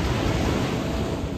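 Ocean surf rolls onto a beach in Australia's southwest, a close, steady broadband wash of breaking waves with no pauses.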